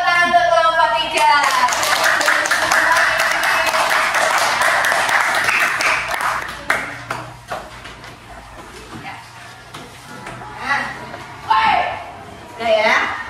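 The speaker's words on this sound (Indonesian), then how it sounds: "beri tepuk tangan untuk kelompok 3" A primary school classroom claps for a student group, starting with loud dense clapping mixed with children's voices, then thinning into scattered claps as a teacher and pupils talk.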